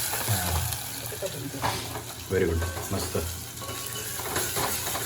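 Onion pieces sizzle in a mustard-seed tempering for sambar, a steady hiss under brief chatter and a few scrapes and clinks of a spoon against the pot.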